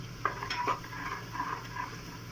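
Mutton added to garlic and ginger frying in a pan for korma, with a soft steady sizzle and a few scraping stirs and utensil clinks against the pan, close and quiet, no talking.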